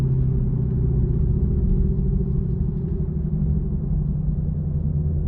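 Ford Mustang GT350 cruising on the road, heard from inside the cabin as a steady, deep engine and tire rumble with a constant low drone and no revving or voices.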